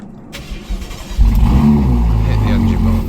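A Ferrari engine cold-starts in the snow: a low crank catches at about a second in, then settles into a loud, steady idle rumble up close, with people talking faintly around it.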